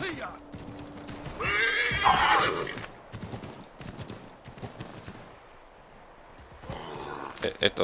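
A horse in the Assassin's Creed 3 video game whinnies loudly near the start, followed by steady clip-clopping hooves under a voice, with another brief neigh toward the end.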